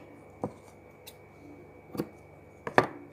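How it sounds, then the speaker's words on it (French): Scissors snip a small piece of ribbon for a paper card craft: a few sharp, separate cuts spaced apart, close and fairly quiet, with a quick double snip near the end and no talking. "je vais couper un petit bout de ruban"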